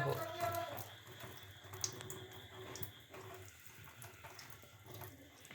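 A kitchen tap runs steadily while things are washed beneath it, a faint, continuous stream of water with small clinks and splashes mixed in.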